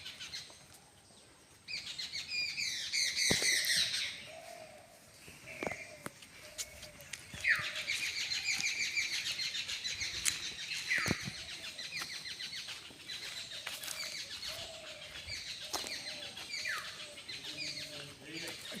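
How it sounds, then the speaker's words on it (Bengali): Small birds chirp and sing at a quiet ashram, with repeated bright calls scattered over steady faint background noise and occasional knocks, heard at moderate distance. "খুব সুন্দর পাখির শব্দ।"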